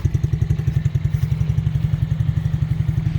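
Mikilon Hammer 125 children's quad bike engine running steadily, a close, even low putter with a fast regular pulse and a light mechanical clatter, no surge or sharp revving.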